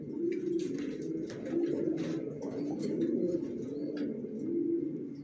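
A pair of racer pigeon chicks cooing softly and steadily nearby, a low continuous murmur with faint chirps and rustles above it.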